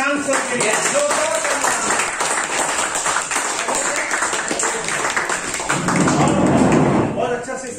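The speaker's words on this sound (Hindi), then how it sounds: "जोरदार तालियां प्रशांत सर के लिए।" Audience applause for a speaker at the end of a motivational business seminar, a steady wash of many hands clapping in a hall that swells near the end, with voices heard over it.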